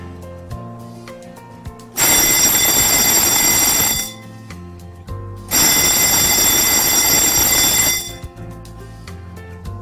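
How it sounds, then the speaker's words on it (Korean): Fire alarm bells in a fire alarm system test at a karaoke business, ringing loud and continuous in two long bursts of about two seconds each, with a quieter background tone between them. "회로 시험 스위치를 한 개 회로씩 눌러서 화재 표시 등 주경종, 지구경종, 시각 경보기가 정상적으로 작동하는지를 확인합니다"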